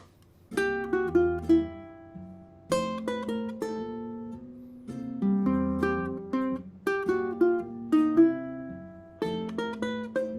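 Ukulele single notes played backwards, with swelling, reversed-sounding attacks, in short phrases with brief pauses, close and alone.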